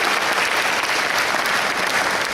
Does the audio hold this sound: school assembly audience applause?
yes